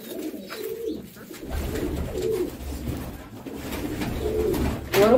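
Pigeons coo steadily at close range, soft low rolling calls repeating through the clip with no talking, ending in a brief louder flutter.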